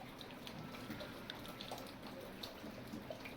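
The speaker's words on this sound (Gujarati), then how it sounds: "હારામાં હારો વરસાદ છે અને અત્યારે ભાઈ કોક સાટા ચાલુ છે" Steady rain showers falling in the evening in a village, a continuous wash of water with scattered drips and patters, moderately close and even throughout with no voices.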